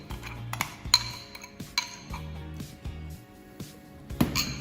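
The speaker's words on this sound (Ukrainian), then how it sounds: "Все ретельно розмішуємо і додаємо до сиру." A spoon stirs and clinks against a bowl while sugar, salt and egg are mixed for syrnyky, bright scattered taps and scrapes at close range with no talking.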